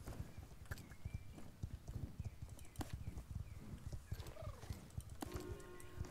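Steady clip-clop of hooves at a walking pace in Star Stable Online, close by, with a brief whinny and a faint voice in the background.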